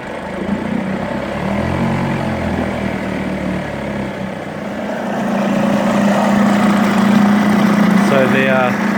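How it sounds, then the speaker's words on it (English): A small Yamaha/Mariner 2hp outboard motor runs at a steady buzzing idle after starting, close and fairly loud, its pitch firming up midway, with a brief higher tonal sound near the end. "So the Yamaha's running now."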